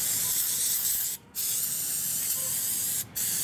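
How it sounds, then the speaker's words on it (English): Brake cleaner sprayed from an aerosol can onto front brake pads of a 2001-2007 Toyota Highlander, a loud close continuous hissing spray in two long bursts, each ending with a brief pause. "Spray them down with the brake cleaner."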